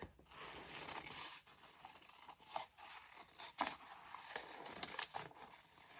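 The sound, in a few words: scissors cutting flowers out of painted paper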